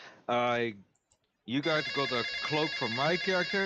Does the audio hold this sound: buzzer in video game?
no